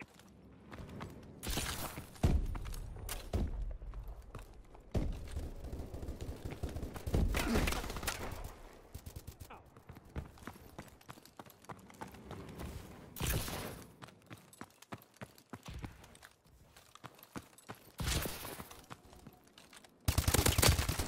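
Bursts of video game gunfire in a military shooter, rapid automatic volleys and thumping impacts coming in waves with mechanical clatter between, loud and close with a heavy blast near the end.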